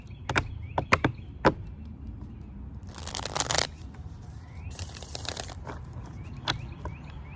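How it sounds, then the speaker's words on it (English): Bursts of riffling tarot card shuffles with a few sharp slaps of cards against a surface, close and fairly loud, with quiet pauses between. "I'm gonna get one more good shuffle on this."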